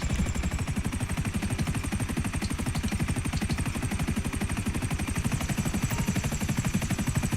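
A Sparrow helicopter in GTA 5 Online flies off with steady, fast rotor chop and engine drone, loud and continuous throughout, no talk.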